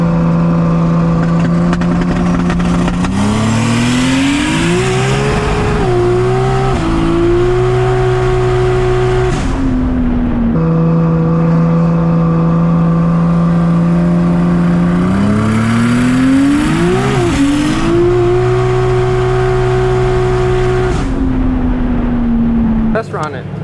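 Nissan Skyline R33 GTST with a 1000HP+ build doing a burnout, engine held at a loud steady high drone with rising rev sweeps and brief dips, continuous and close throughout.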